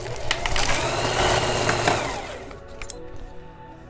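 A sewing machine runs a 1/4 inch top stitch along a curved seam joining the fabric top and band of a bucket hat, a steady whirring hum for about two and a half seconds before stopping, then a small click.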